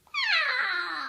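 A child imitates a cat's meow, a single drawn-out, falling vocal wail of about one second, close and fairly quiet.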